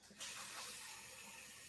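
Beef broth is poured into a crock pot over steak, a soft steady splashing hiss of liquid that starts abruptly and runs faint and continuous for a moment.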